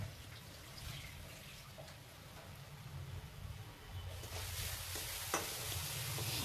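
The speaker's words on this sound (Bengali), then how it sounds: "এবার এটাকে আমি কিছুক্ষণ এভাবে নেড়ে নেব" Grated coconut filling stirred with melted jaggery in a wok, a soft steady scraping and low sizzle that grows slightly louder in the second half, with one brief knock near the end.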